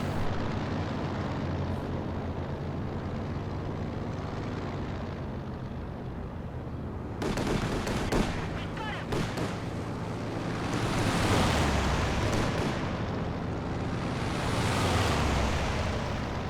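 Soviet IL-2 attack planes making strafing passes in the World War II strategy game Company of Heroes 2, a roaring engine drone and rumbling gunfire over a constant wind-like background hiss, rising and falling across several passes.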